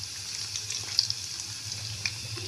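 Potato balls fry in oil with a low, steady bubbling sizzle, a faint hum underneath and a couple of small crackling pops.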